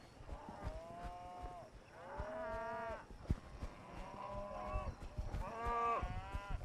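Cattle being driven uphill by riders on horseback and ATVs low repeatedly with several drawn-out moos, one after another, over a faint outdoor background.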